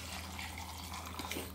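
Water pours steadily into a blender jar holding salsa ingredients, a soft continuous splashing flow heard alone and fairly faint throughout.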